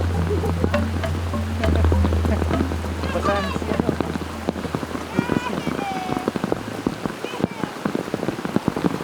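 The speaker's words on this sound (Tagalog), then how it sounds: "Kanina lang sabi ni Jerry nag-aalala siya dun sa ulan eh. At ngayon bumuhos na nga." Heavy rain pours down steadily during a walk, dense patter of drops on surfaces up close with a low rumbling undertone and occasional brief voices and bird or frog calls.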